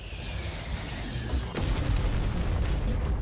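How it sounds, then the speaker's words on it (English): Distant rumbling gunfire and explosions roll through a video game battlefield, a dense continuous low roar with a sharper blast at the midpoint, no voices. "The distant sound of mechanical roaring was actually a mixture of gunfire and explosions"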